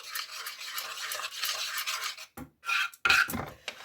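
A spoon stirs and scrapes through a sriracha sauce for a sweet lime chicken dish, giving a close, continuous rubbing swish that breaks into a few short bursts toward the end.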